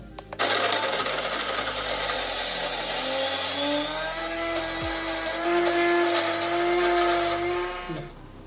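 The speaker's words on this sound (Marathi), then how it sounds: "तर हे मिक्सरमध्ये बारीक करून घेतो आता" A mixer grinder whirring at high speed as it grinds coconut, green chili, ginger, garlic and salt into a masala paste for bangda fry, a loud continuous motor whine that starts abruptly and cuts off after about eight seconds.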